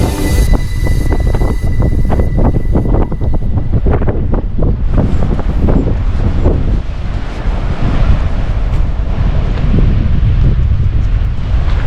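Strong, steady wind roars and buffets the microphone throughout, a constant loud rush on a coastal path in North Cornwall with a faint surf-like wash underneath.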